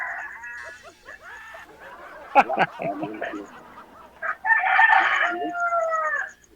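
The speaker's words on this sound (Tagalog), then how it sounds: "Parang may sabong yata dyan. Ang daming manok ha." Many chickens in a rural yard, a rooster crowing loudly and nearby with other fowl clucking and calling around it, and short overlapping bursts throughout.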